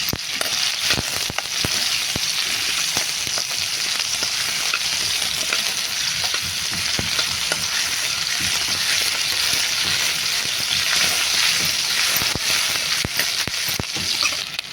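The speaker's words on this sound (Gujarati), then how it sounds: "ડુંગળી આપણે સરસ રીતે સોતે કરવાની છે" Chopped onion sautéing in oil in a pan for a yogurt-tempered val papdi curry, with a steady dense sizzle and frying crackle throughout, close and continuous, broken by soft stirring scrapes.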